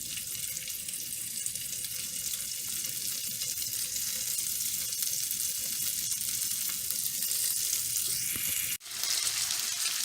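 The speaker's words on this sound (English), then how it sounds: "now that the butter has melted in the olive oil, we're going to place our chicken pieces in" Chicken pieces sizzle and crackle in a frying pan of melted butter and olive oil for honey garlic chicken bites, a loud, continuous hiss with a brief dip near the end.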